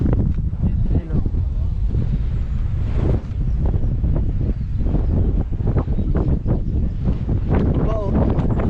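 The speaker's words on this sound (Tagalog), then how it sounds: "Sobrang lakas ng hangin." Strong wind buffets the microphone on a mountain summit during a night hike, a loud continuous roar with gusts, while people talk over it now and then.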